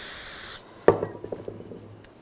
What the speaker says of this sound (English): Spray those down.